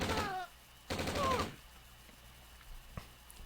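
Gunfire from a pillbox cutting down infantry in a real-time strategy game: two dense, rapid bursts of machine-gun fire in quick succession, mixed with short cries and game sound effects, then a quieter lull.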